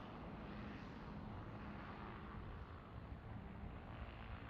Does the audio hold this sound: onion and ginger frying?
no